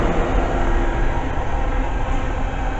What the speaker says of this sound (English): There she goes, and that 66 is for Freightliner. Smoking 66588.